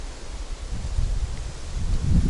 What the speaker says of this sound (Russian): Но ветер дует.